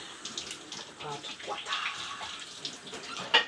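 Hot water runs from a kitchen tap while hands are washed during baking, a steady close hiss and splash at moderate volume, with a voice speaking partly over it.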